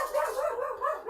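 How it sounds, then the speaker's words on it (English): A pet dog barks at someone at the door, a quick close burst of sharp, yappy barks running together. "that's my dog, because someone's at the door."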